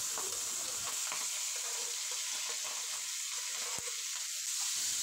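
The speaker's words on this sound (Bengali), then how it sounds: "চিংড়ি মাছগুলো আমি হালকা করে ভেজে নেব।" Marinated prawns fry in hot mustard oil in a frying pan, giving a steady close sizzle with a few soft stirring scrapes and no voices.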